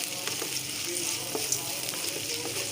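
Chopped onion with ginger-garlic paste fries in a pan for a vegetable pulao, giving a steady close sizzle with light stirring scrapes throughout.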